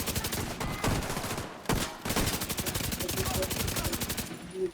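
Rapid automatic gunfire from the named rifle LUD in Tom Clancy's The Division 2, sustained bursts with a brief pause near the middle, loud and close.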